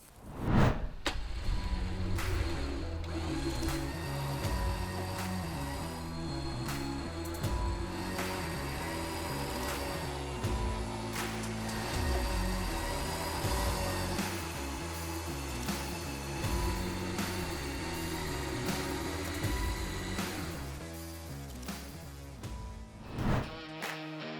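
Winch steadily pulling a rope line taut, a continuous motor whine with shifting mechanical tones running close and fairly loud for the whole span, with a brief clunk at the start and end.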